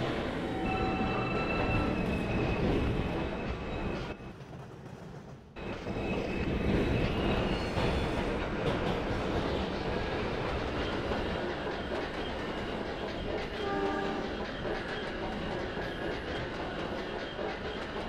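Simulated New York City subway P local train running in the Trainz 12 game, a steady loud rumble and rail clatter with wheel squeal tones, a brief dip in noise midway, then continuous rolling again.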